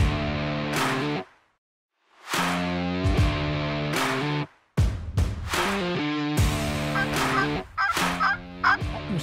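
Loud, close wild turkey calls come in several harsh bursts, with gobbling and honking notes separated by brief silences, heard during a turkey hunt near Berthier-sur-Mer, Montmagny region.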